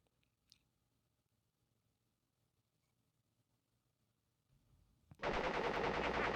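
Pinstripe, a gangster boss in the Crash Bandicoot game, opens up with a loud, sustained burst of gunfire that starts abruptly after several seconds of near silence with faint background noise.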